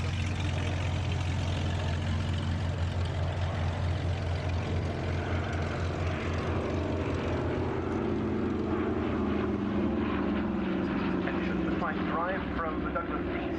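The piston engines of a Douglas DC-3 Dakota drone steadily and loudly in a deep propeller hum that holds throughout, with a voice talking over the engine noise.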